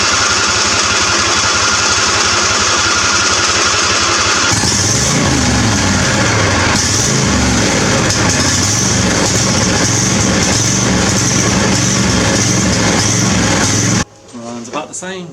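Small engine running steadily after its fuel line is reconnected, a busy mechanical drone with a lopsided, hunting idle that shifts in tone partway through, then cuts off near the end.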